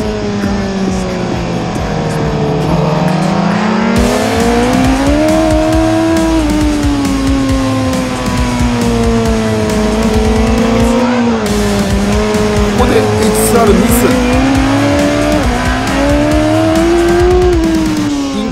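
Racing motorcycles at full speed on the Tsukuba circuit during a Taste of Tsukuba race, with a Kawasaki H2R passing; loud, continuous high-revving engine drone rising and falling through gear changes, close up from an onboard position.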